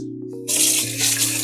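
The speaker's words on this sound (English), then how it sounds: "I'm washing my hands with cold water" Cold water gushes steadily from a sink tap as hands are washed beneath it, a close, loud broadband rush that starts abruptly and continues without pause.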